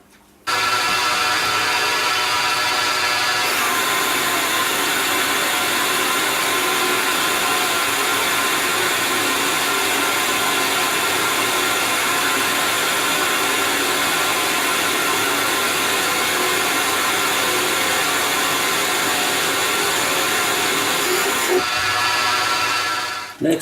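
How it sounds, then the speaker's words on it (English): A metal lathe turns a knob blank down from 49 to 40 millimetres diameter, a steady loud machining whir and cutting hiss running nearly the whole time, starting and stopping abruptly at either end. "I will turn this down to 40 millimeters diameter."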